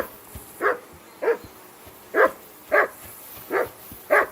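A dog barks repeatedly in Kingdom Come: Deliverance 2, six loud, evenly spaced woofs close by with quiet gaps between them.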